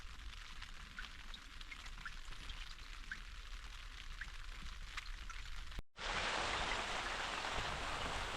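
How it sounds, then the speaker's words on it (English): Light drizzling rain falls with no wind on a MiniCat 520 Explorer small boat in the Stockholm archipelago, a soft steady patter that jumps abruptly to a louder, denser hiss near the end. "It's just raining."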